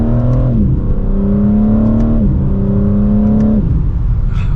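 A 2023 BMW M4 Competition xDrive coupe accelerates mildly in sport mode, its engine note rising steadily through three gear changes with brief dips between upshifts, loud and close from inside the cabin with no talking.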